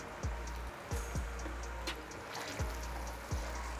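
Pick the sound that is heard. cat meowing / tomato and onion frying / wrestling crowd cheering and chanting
tomato and onion frying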